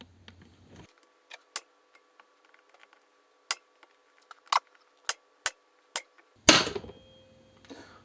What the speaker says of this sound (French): j'espère qu'on va réussir à démonter ça avec le tournevis à choc